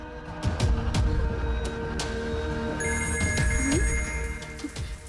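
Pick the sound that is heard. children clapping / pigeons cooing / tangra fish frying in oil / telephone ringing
telephone ringing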